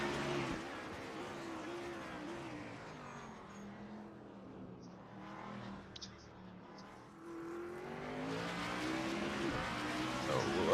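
A race car in a sim racing game on a hot lap through the final corners and chicane at Spa, its engine revving up and down steadily and tires squealing, with commentary running over it.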